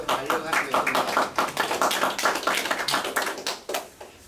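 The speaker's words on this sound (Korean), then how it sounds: "박수를 쳐서 이제 마치려고 합니다." Audience at the close of a lecture on national spirit and conservatism claps in a run of distinct, fairly close hand strikes that carry on for several seconds, with a voice faintly under them.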